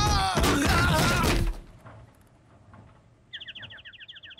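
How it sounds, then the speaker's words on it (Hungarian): A loud crashing burst gives way to quiet, then small birds break into rapid, regular high chirps up close in an animated Family Guy scene. "Jaj, milyen édes kis madarak!"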